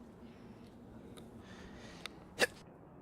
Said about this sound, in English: sorry guys, had to sneeze